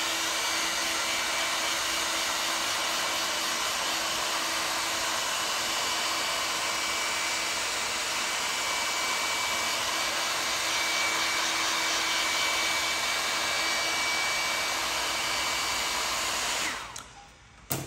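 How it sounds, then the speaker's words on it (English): A hair dryer drying dye on a leather jacket blows with a steady, loud whooshing whir close by, running continuously before cutting off abruptly near the end. "use a little hairdryer, just help really get it gone fast."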